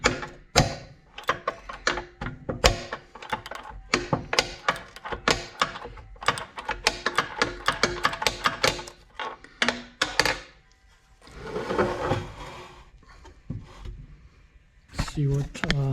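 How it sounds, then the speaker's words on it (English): An old REO engine, found frozen in a snow bank, is slid and shifted on a surface to break it loose, giving repeated sharp scraping knocks and clunks in irregular bursts, close, with someone talking between them. "let me just slide the motor back here to break that loose"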